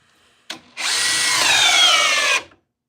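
A cordless drill on an Edge battery, whose motor gives a short blip and then a steady high whine for nearly two seconds before cutting off sharply, with no talk.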